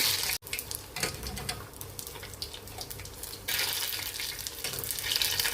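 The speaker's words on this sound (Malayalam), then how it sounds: "ഈ മാവിലേക്ക് ഇങ്ങനെ മുക്കുക, എന്നിട്ട് ഈ എണ്ണയിലേക്ക് ഇട്ട് കൊടുക്കുക." Batter-dipped green chillies fry in hot oil for mulaku bajji, a continuous bubbling sizzle that swells louder partway through, with a brief dropout near the start.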